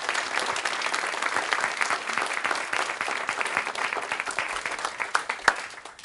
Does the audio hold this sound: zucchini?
no